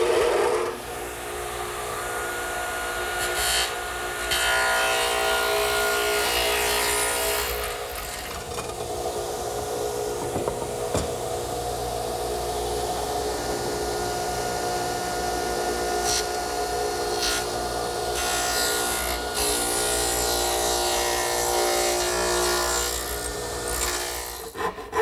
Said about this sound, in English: to make the tenon, I'm going to start over at the radial arm, where it's still set up with the stacked dado head cutter